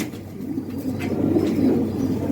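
Pigeons from a champion bloodline coo softly in a low, steady murmur, a continuous close rumble of several birds with no talking over it.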